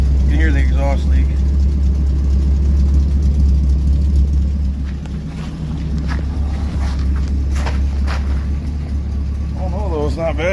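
A 1957 Chevy with a stock 350 Vortec engine idles steadily with an exhaust leak, a deep continuous rumble up close, with someone briefly talking over it.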